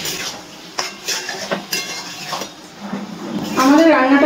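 Pot of Bengali shankar fish curry with garam masala stirred near the end of cooking, giving scattered scraping clinks of a utensil against metal over a soft sizzle that grows louder toward the end.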